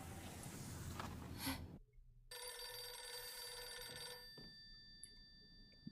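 Telephone ringing inside a video game: after a burst of noisy game sound and a short silence, an electronic ring tone holds steady for about two seconds, then fades into quiet background.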